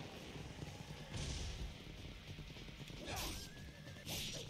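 A horse in the video game Ninja Gaiden Sigma whinnies loudly in two or three sharp bursts, with hoof clip-clop and game effects underneath and no talking.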